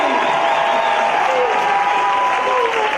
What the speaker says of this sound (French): Est-ce que vous pouvez applaudir Monsieur le maire très fort, très fort, très fort.